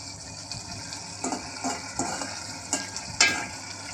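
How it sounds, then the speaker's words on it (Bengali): Chickpeas frying in a pan are stirred after the lid comes off, with a low sizzle under a series of uneven scraping strokes close by. "তাই ঢাকনা খুলে আবার নেড়ে নিলাম"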